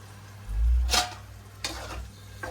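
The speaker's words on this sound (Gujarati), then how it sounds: "ચાલો એને હલાવી લઈએ હવે કમ્પ્લીટ" Tomatoes frying in a pan are stirred in two brief scraping bursts, a clear one near the start and a softer one later, over a low background hum with no talk.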